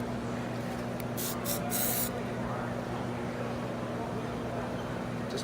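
Chem-set spray activator hisses onto bonded wood moulding in a few quick bursts, the longest close and distinct, followed by a faint brief puff later over a steady low hum.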